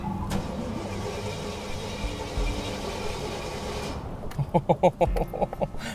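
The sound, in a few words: blown Jaguar rat rod engine starting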